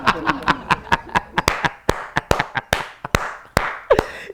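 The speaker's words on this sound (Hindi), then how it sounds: "तो मैं ठोक रहा हूं ताली" A man claps his hands in a steady run of sharp, close claps, around sixteen in about four seconds, with brief talk mixed in.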